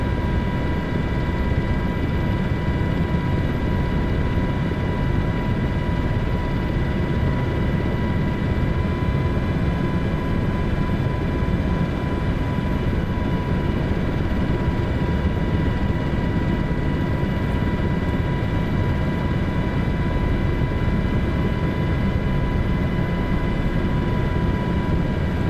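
An aircraft cruises over Rome with a constant, loud engine drone heard from inside. Steady tonal hums sit over a dense low roar throughout, unbroken and with no voices.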